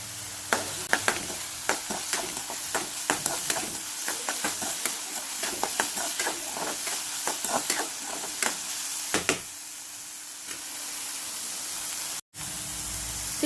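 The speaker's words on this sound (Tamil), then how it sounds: "பாருங்க, வெங்காயம் நல்லா வதங்கிட்டு இருக்கு, அது நல்லா சாஃப்ட் ஆகட்டும்." Onions softening in a pan for a simple travel-friendly dish, with steady frying sizzle and scattered scraping and stirring clicks, close and alone with no talking, briefly dropping out near the end.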